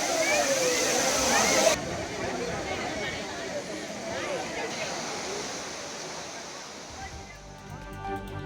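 Courtallam waterfalls in the rainy season roar as a steady, dense wash of falling water, while a voice narrates over it throughout.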